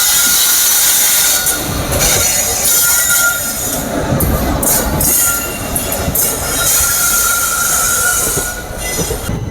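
Amritha Express on the Madurai–Trivandrum line pulling out of Dindigul station: steady loud rumble of rolling coaches with wheel squeal and rattling track noise throughout, close by and continuous.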